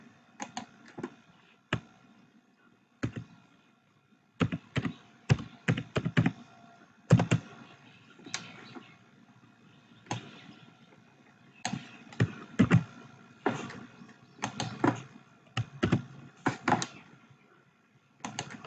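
Typing on a computer keyboard while writing HTML code, heard as clusters of close, crisp key clicks in irregular bursts separated by short pauses, with no talking.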